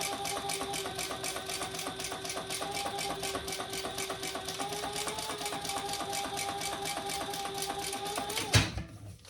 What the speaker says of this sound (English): And we're going to sew that together.